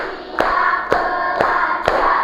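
A classroom of pupils claps a rhythmic concentration clap: four sharp, evenly spaced claps about half a second apart over a steady low room hum, with no talking.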